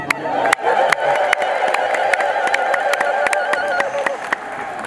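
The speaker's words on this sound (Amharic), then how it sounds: "እዚህ ላይ ነው እልል የሚባለው።" A crowd at a church feast celebration ululates in sustained warbling high trills, mixed with cheering and sharp claps, loud and close.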